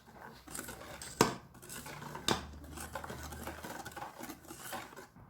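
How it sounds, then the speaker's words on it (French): A spoon or whisk mixing cupcake batter with sifted cocoa in a bowl, soft steady scraping and stirring with two sharp clinks against the bowl, faint and close with no talking. "Et on mélange le tout."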